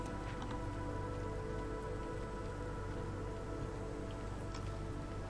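Steady rain pours in the city-building game Against the Iron Storm, a dense, continuous hiss with faint patters that never lets up across the whole stretch.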